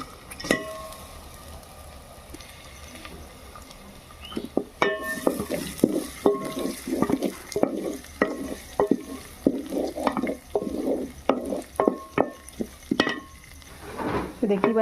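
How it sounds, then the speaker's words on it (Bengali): Onions being fried and stirred in hot oil in a pot: a soft sizzle underneath repeated scraping and clinking of a spoon against the pot in irregular bursts, close by. "তো এখানে তেল গরম হয়ে গেছে, আমি হাঁড়ি বসিয়ে দিয়েছি। এবার দিয়ে দেবো পেঁয়াজ।"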